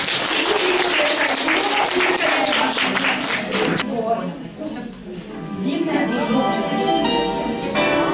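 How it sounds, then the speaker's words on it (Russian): Applause from an audience at an anniversary gathering of a southern Russian literary society, fairly loud and dense for the first few seconds, dipping midway as speech and a sustained tone rise, then swelling again under talk. "Ваши аплодисменты Апрель Накрасова"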